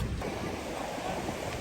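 Ocean waves wash onto Payyambalam beach in a continuous roar of surf, with steady wind buffeting the microphone.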